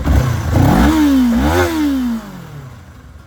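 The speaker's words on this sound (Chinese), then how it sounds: "好，现在我把转速稍微拉一下。" A Kawasaki Eliminator 500SE motorcycle engine is blipped twice in quick succession, pitch climbing, dipping and climbing again before falling back to a lumpy idle; loud and close.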